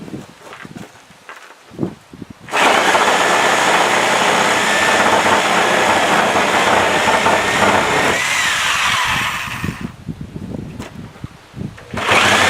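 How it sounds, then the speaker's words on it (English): A Sawzall reciprocating saw cuts apart a wooden yard gate, its loud buzzing snarl running steadily for several seconds after a brief pause, then easing off and stopping, followed by a few light knocks and handling noises. "we're just going to take our Sawzall and we're going to cut our gate apart"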